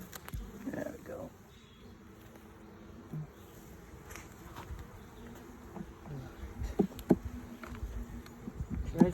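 Carniolan honeybees buzz in a steady, close, low drone throughout an open-hive inspection, with a person talking softly over the swarm and a few sharper bumps near the end.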